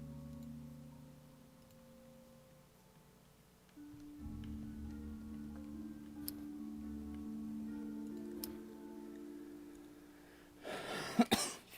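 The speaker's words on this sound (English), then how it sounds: "Have you not noticed I've been coughing all night?" A person lets out a short burst of loud, harsh coughing near the end, after a long stretch of quiet room tone with low steady hum.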